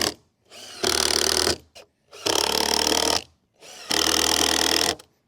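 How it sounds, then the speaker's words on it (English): A power drill drives 3.5 inch screws down into a 2x4 for above-ground pool steps: three sustained bursts of whirring, each about a second long, with short pauses between them, loud and close, no talking. "I'm just going to put these screws down in there just a little bit"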